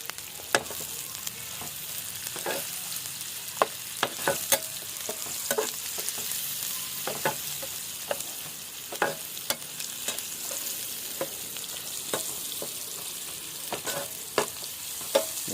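Stirring and frying in a pan with turmeric added, a continuous hiss of sizzling broken by frequent sharp scrapes and taps of a spoon against the pan, close and fairly loud with no talking.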